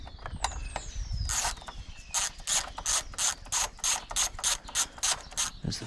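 A ratchet wrench loosens bolts on a Honda BF2.3D outboard engine, giving a quick run of a dozen or so regular clicking strokes up close, after a few metallic creaks and scrapes at the start.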